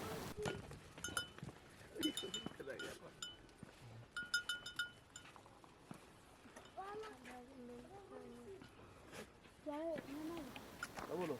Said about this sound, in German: Gleich daneben, mit Ästen abgetrennt, leben die Ziegen und Schafe.